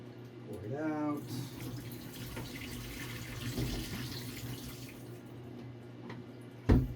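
Wash water pouring out of an Arista E-6 film developing tank during processing, a steady broadband splash running for several seconds with a brief louder clunk near the end, while a voice speaks over it.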